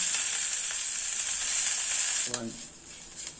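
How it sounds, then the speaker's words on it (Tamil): Curry leaves frying crisply in a pan for garlic curry, a bright close sizzle that crackles steadily and then eases as a brief clatter from stirring breaks in. "இது நல்லா கருவேப்பிலை மொறுன்னு வறுத்துக்கிடுவோம்."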